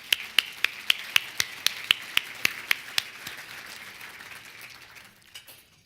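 Single sharp hand claps repeat at an even, brisk pace from the podium at a State of the Region 2017 address, then thin out and fade to a few faint claps in a quiet room.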